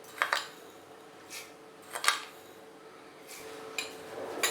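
A spoon stirs sugar into lukewarm milk, giving a few sharp, faint clinks against the vessel spaced out over several seconds, with quiet between them and no talking.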